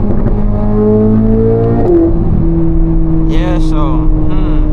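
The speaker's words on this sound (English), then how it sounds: "in track mode the shifts are more aggressive" Engine of a 2025 Corvette C8 Z06 with the Z07 package in track mode, rising in pitch then dropping sharply through a quick aggressive upshift, heard from inside the cabin under steady talk.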